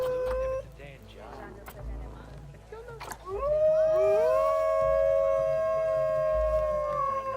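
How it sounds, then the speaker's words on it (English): Wolves howl in the Planet Zoo console edition, a long rising howl swelling loud and sustained after a few seconds of quieter game ambience and low rumble. "heard the wolves howl so much in this game."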